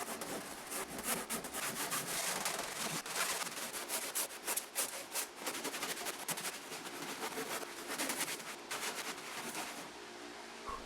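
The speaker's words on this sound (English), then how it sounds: "I can start cutting the tenons to mate them to their mortises" Wooden tenons for roof trusses are cut by hand with a saw, giving a continuous run of close, rasping strokes in a fairly quick, steady rhythm.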